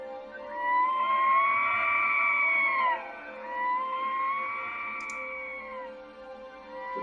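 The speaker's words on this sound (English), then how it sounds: "It's like almost like a howling sound, like a distressed sound." Distressed, wailing howl used as a sound effect in a tabletop role-playing game, two long rising and falling cries in a barren, echoey landscape, clear and alone.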